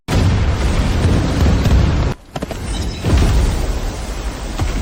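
Artillery fire in an animated battle scene, a loud, heavy roaring barrage of booms that cuts out abruptly for a moment, then rumbles back in with dense, sustained blasts.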